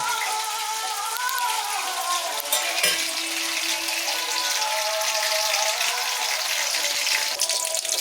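Steady, bright sizzling of ingredients frying in hot oil for godhumai rava upma, continuous and close with light stirring scrapes.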